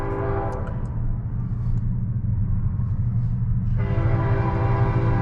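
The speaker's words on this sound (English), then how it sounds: "Train coming through." A freight train rolls past a rail depot with a heavy continuous rumble, its loud horn sounding at the start and again for the last stretch, close and dominant throughout.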